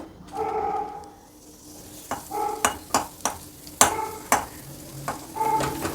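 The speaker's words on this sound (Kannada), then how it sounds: "ಚೆನ್ನಾಗಿ ಹುರ್ಕೊಳ್ಬೇಕು ಈರುಳ್ಳಿ ಸ್ವಲ್ಪ ಫ್ರೈ ಆಯಿತು" Chopped large onion and peeled garlic cloves frying in a pan with a soft sizzle, broken by a series of sharp stirring scrapes and clinks of a spoon against the pan at close range, with no talk.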